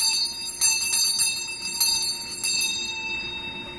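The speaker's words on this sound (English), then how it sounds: "I ring my bell. Peace on earth." Repeated clangs from a small hand bell ring out close by, the strikes spaced irregularly and the metallic shimmer hanging between them before fading near the end; no one speaks.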